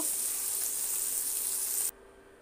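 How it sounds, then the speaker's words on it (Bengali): Loud, even hiss of small puti fish frying crisp in oil, continuous and close, cutting off abruptly near the end. "পুঁটি মাছগুলো বেশ ভালোভাবে কড়া কড়া করে ভেজে নেব"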